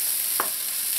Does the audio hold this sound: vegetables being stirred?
yes